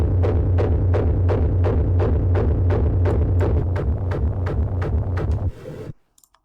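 A distorted hard techno kick drum run through iZotope Trash 2 effects in a changed order thumps in a fast, even four-on-the-floor loop with a thick low rumble, loud and alone, ending in a short noisy tail and a couple of clicks.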